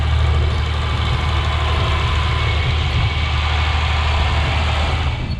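John Deere 4020 row-crop tractor running in a field with a square hoe, a steady close diesel rumble with wind, no talk.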